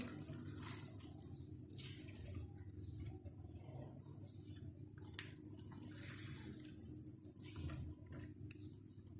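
Soaked phulkiyan, small fried gram-flour puffs, being squeezed out of water for aloo chana chaat, giving a steady wet splashing and trickling in a kitchen, close and continuous throughout.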